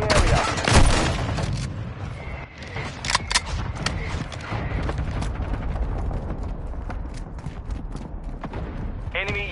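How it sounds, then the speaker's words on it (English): A mortar strike in Call of Duty MW2 rumbles and crackles with repeated sharp impacts over continuous battlefield noise, while a voice speaks during part of it. "Hostile mortar strike in the area."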